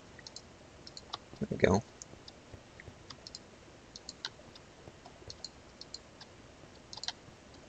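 Keyboard with newly switched keys, sparse light clicks tapping irregularly at close range, with a short spoken phrase partway through.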